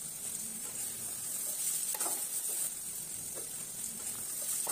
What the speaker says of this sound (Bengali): কিছুক্ষণ পরে এসে ঢাকনাটি নামিয়ে আবারও নেড়ে চেড়ে মিশিয়ে নিচ্ছি